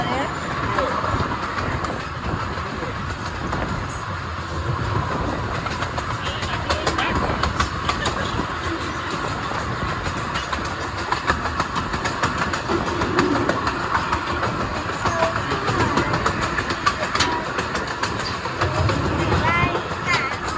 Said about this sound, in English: Yeah, the train's faster than I thought.